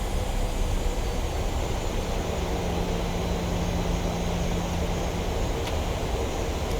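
A PMDG 737 slowing on approach to Sumburgh in Microsoft Flight Simulator gives a steady, dense jet engine roar with a low drone, filling the whole stretch at a constant level without voices.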